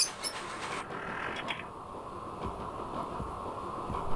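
A train creaks and rumbles through a tunnel in the video game Echo Night, a steady mechanical drone with soft rhythmic rail clicks and a high whine fading early on.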